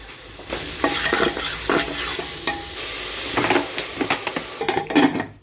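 Vegetables and peas fry in oil inside a pressure cooker, a steady sizzle broken by repeated scraping stirs and clinks of a spoon against the metal pot, close and fairly loud.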